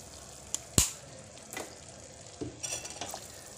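A pan of rose-essence sugar syrup for gulab jamun bubbling on the stove, a soft, close simmering hiss with a few sharp clinks and scrapes of a spoon against the pan.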